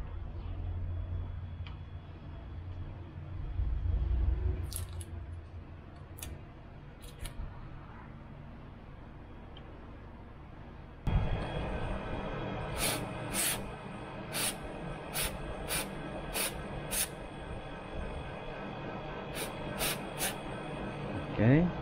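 Cleaner sprayed onto a car's MAF sensor in short hissing bursts, a few sparse sprays at first, then a rapid series of six or seven close puffs, with a brief voice early on.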